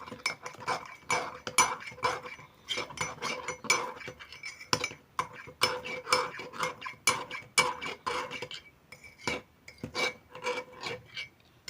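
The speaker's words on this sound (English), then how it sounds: "And then I stir until there are no lumps of the cocoa." A spoon scrapes and rubs around a tea mug while stirring cocoa cake batter, giving a steady run of quick rasping strokes and light clinks, fairly faint and close.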